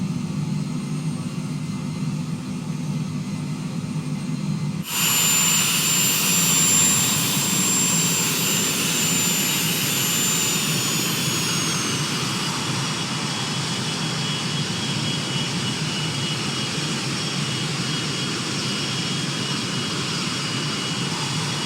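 A jet aircraft engine whines and roars loud and close while the plane taxis. A sharp rise about a third of the way in turns into a steady, broadband rushing drone with a high whine on top.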